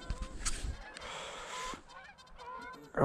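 A flock of geese honks at a distance over a UK pasture, calls overlapping in a noisy wash with some outdoor rumble.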